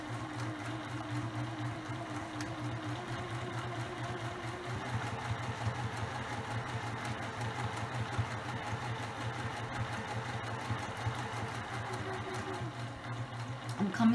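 A sewing machine runs a continuous stitch down the edge of a placemat fabric. Its quiet, steady mechanical hum and rapid needle patter carry on without a break, close by.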